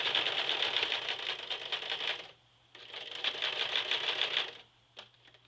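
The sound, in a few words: sewing machine stitching a jeans zipper and waistband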